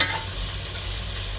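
Onions and shallots caramelize in a pan with a brief, steady sizzle and stirring hiss, close and fairly loud, and no one speaks.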